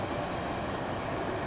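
CSX freight train Q561 rumbling steadily past at close range, a dense continuous roar of rail and wheel noise with no voices.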